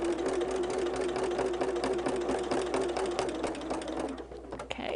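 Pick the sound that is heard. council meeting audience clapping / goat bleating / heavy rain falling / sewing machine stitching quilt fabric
sewing machine stitching quilt fabric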